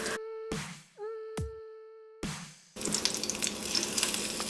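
Food frying in oil over a medium flame, crisping as it cooks; a few brief tonal notes give way to a loud, steady, close sizzle filling the second half.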